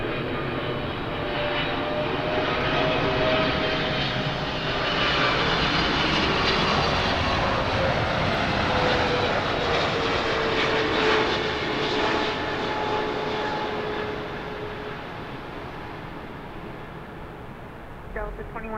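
A Southwest airliner landing on runway 24 right at Los Angeles airport gives a steady roaring engine drone that swells and then fades, with a spotter talking and tower radio chatter over it.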